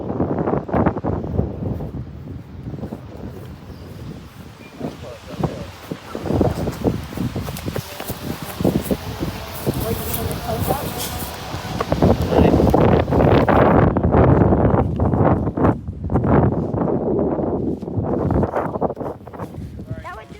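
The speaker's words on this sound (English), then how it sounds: "It's windy out today." Strong gusty wind roars and buffets the microphone across an open field during a game of catch with a dog, loud and continuous for the whole stretch, with faint voices muffled underneath.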